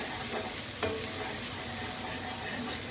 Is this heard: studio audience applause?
no